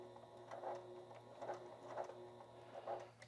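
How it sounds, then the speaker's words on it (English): A b08 sewing machine running at zero stitch length, sewing a few stitches in place on heavy fabric or leather, gives steady motor hum with four rhythmic mechanical bursts, close and fairly quiet, no talking. "you can literally bring the stitch length to 0 and sew on the spot a few stitches"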